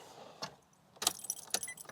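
Keys jangle in a Nissan Navara as the ignition is switched on, bright metallic rattles in a few close bursts, the last ones busiest, with a quiet cabin between them.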